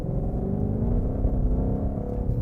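A 2020 Ford Mustang GT500 engine gives a deep, steady low rumble, loud and close throughout with no voices over it.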